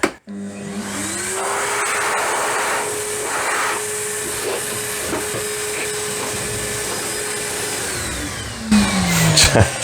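A Evolution R15VAC corded workshop vacuum, in blowing mode, whirs up to a loud, steady blowing rush with a droning motor tone, runs for several seconds, then winds down.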